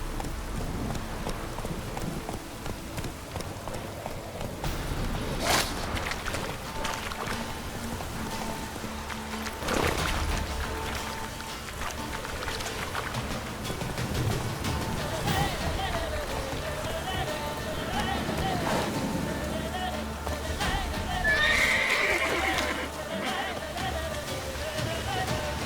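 Roach the horse gallops in the Witcher 3 video game, a steady clip-clop of hooves running through continuous game ambience with a rain-like wash, no distinct neigh standing out.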